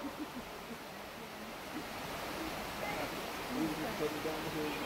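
Creek water flowing beside a mountain trail, a steady broadband rushing and babbling, while people talk faintly over it.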